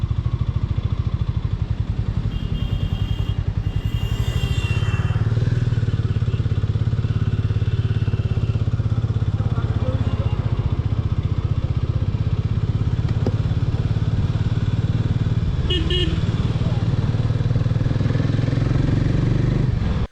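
A Harley-Davidson X440 motorcycle engine drones steadily and loud at low pitch, pulling smoothly from a standstill in third gear with a slow, even build and a few light clatters.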